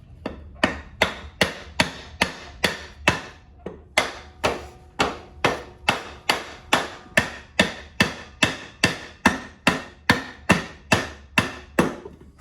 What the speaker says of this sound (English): Sam's gonna pull the wheel and I'm just gonna tap it out